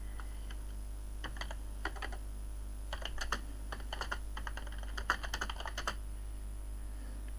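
Computer keyboard typing in bursts of rapid key clicks separated by short pauses, close up over a steady low background hum, with no one speaking.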